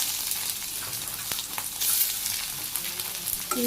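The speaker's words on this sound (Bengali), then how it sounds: "শিরা মাছ আমি সুন্দর করে ভাজি করে নিই" Small shira fish frying in hot oil with onions and chilies, giving a steady, dense, close sizzle that continues alone throughout.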